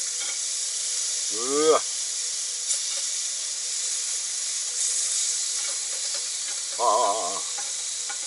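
Liver and garlic chives stir-fry in a pan with a constant bright sizzle close to the mic, while a voice gives two short drawn-out exclamations over it.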